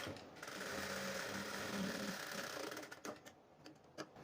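Sewing machine stitching a blouse, a dense steady mechanical whir with rapid needle chatter for about three seconds, then slowing into a few separate clicks and stops; close and moderately quiet.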